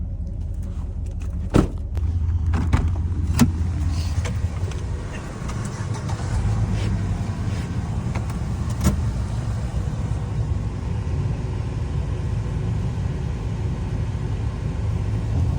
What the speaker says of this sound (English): Leah, you bring this truck over to the yard.